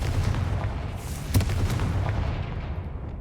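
Confringo spell explosion in Hogwarts Legacy, a sharp blast at the start and a louder thump midway, set against rumbling low background noise, with no talk.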